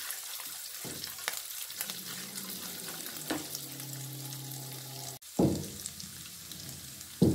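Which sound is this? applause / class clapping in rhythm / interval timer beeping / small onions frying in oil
small onions frying in oil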